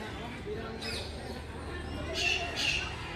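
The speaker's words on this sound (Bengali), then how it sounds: "আর পাখির ডাক তো অনেক এখানে" At a small zoo in Gilatala, Khulna, a few short, shrill bird calls ring out in two bursts over a murmur of background voices and ambient noise.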